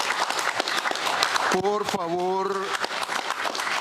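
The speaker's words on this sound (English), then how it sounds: "many in the room applauded her actions." Applause fills a room during a public hearing, dense clapping heard throughout with a voice speaking over it.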